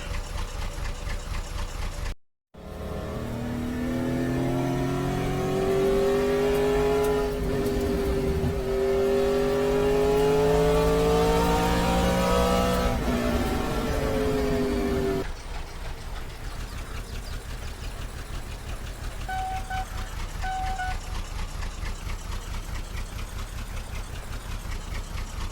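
A vehicle engine in Farming Simulator 22 on the Gnadenthal 1950 map, running steadily and loudly with a rising and falling tone as it drives, then settling into a lower, even drone after a brief cut.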